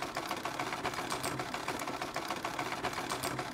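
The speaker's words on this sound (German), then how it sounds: "Naja, und jetzt ab an die Nähmaschine." A sewing machine in a hidden object video game rattles steadily and fast throughout, an even mechanical clatter at moderate level with no voices.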